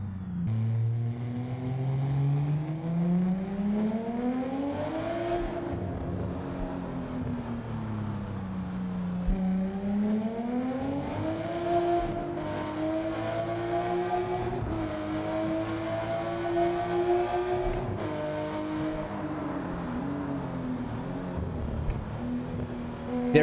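A car engine in a racing video game revs and climbs in long rising and falling sweeps through the gears, loud and close, with no voices over it.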